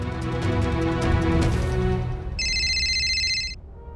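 Mobile phone ringing with an incoming call: a bright electronic tone sounds for about a second after a stretch of loud, busy background noise, then cuts off.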